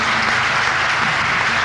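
Audience applause at a Hindi satirical poetry reading, a dense continuous clapping close and loud throughout, with no voices over it.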